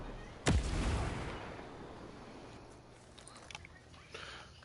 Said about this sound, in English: How many frags are y'all going to throw?